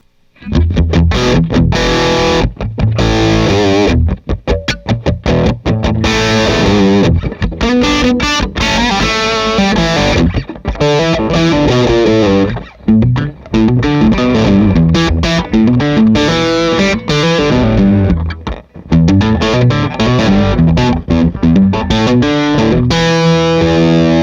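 A heavily distorted electric guitar through a Boss DS-1 distortion pedal playing chords and riffs continuously, loud and saturated, with brief pauses between phrases.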